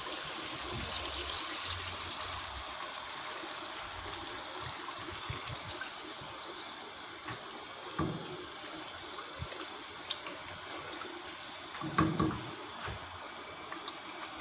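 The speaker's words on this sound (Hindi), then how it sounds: "अब इसमें 1 लीटर पानी ऐड कर देंगे।" Water poured into a pot of browned chicken for haleem, a soft trickling stream with occasional clinks and knocks of the pot and utensils, fairly faint and close.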